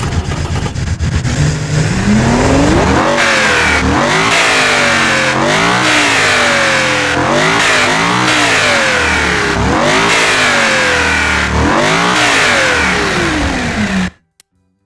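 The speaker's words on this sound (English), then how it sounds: "It really sounds like a real Ferrari V12, especially when you rev it." A small model of a Ferrari 250 GTO Tipo V12 engine revs repeatedly in rising and falling whines, loud and close, then cuts off abruptly at the end.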